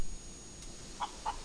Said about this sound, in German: Und ein Huhn.